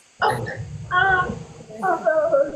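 Short yips and whimpering barks from a corgi, three quick bursts close by, heard over a noisy livestream background where a voice is also present.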